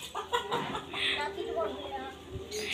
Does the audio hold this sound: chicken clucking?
yes